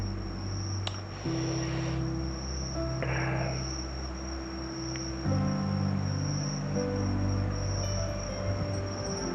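A steady, high-pitched chorus of crickets chirping continuously, with low rustling and hum beneath it and no voices.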